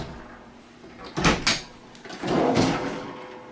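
A drawer on a boat that works as either a freezer or a refrigerator slides and knocks shut in two sharp bursts, followed by a softer, longer rumble of movement, close by with no talk.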